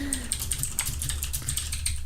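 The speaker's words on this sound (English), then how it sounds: "this is just a stream of us typing to our chat now" Steady, brisk keyboard typing while messaging a chat during a lockdown-era talk stream, close and continuous with even clicks over a low background murmur, no clear speech.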